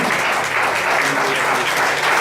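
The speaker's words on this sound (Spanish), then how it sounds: "Den un fuerte aplauso a Jesús." A church congregation claps steadily and loudly, a full, even burst of applause throughout with no talking over it.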